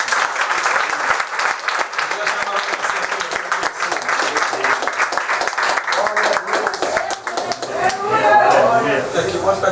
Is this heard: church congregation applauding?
yes